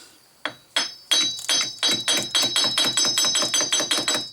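A hammer taps the smooth, unthreaded end of a Grand Caravan axle shaft in a run of about a dozen sharp metallic strikes that quicken into a steady rhythm, close and fairly loud with no talking.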